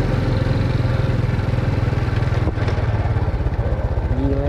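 Motorcycle riding along a city street in Pematang Siantar at midday, a close, steady engine drone with a throbbing low rumble, rising briefly in pitch near the end as it accelerates.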